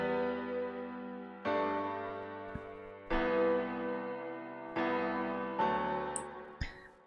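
A normal acoustic piano plays sustained chords for melodic bass music, each chord held for about one and a half seconds. Five changes ring out cleanly and softly, with no talking.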